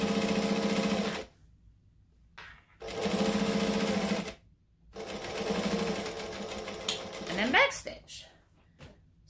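Sewing machine stitching fabric about an eighth of an inch from the edge, three close runs of rapid stitching separated by short pauses, with a brief rustle and clatter of handling near the end.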